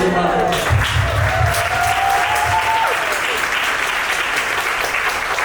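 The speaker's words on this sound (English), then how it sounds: "Let's give them a round of applause" An audience gives a choir a round of applause, a dense and even wash of clapping that runs steadily throughout, with a brief voice near the start.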